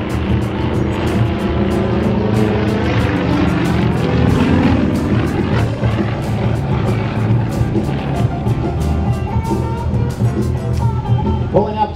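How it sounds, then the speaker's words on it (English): A prototype Yak 50 aerobatic airplane performs a full vertical roll at the Canadian International Air Show, its propeller engine droning loudly and steadily throughout with shifting pitch and a faint announcer voice underneath. "Pulling up to our right, rolling the F-50, demonstrating the incredible roll rates in a full 360-degree vertical roll."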